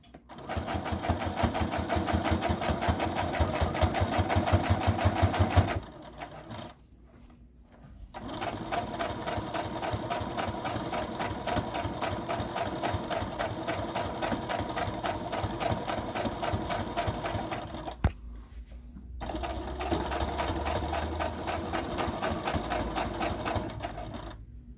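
A sewing machine top-stitches the seam of a fabric book sleeve in long, steady whirring runs, pausing briefly twice before starting up again, close and clear with no talking.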